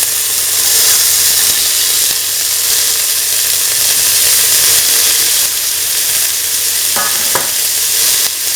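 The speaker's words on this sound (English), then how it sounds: "Put in the onion pieces." Onion pieces frying in a pan for a potato chickpea coconut milk rice dish, giving a loud, steady, close sizzle that runs throughout with a brief scrape of stirring near the end.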